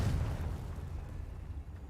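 A Confringo spell explosion from Hogwarts Legacy bursts loudly with a deep boom at the start, then rumbles and fades over about two seconds.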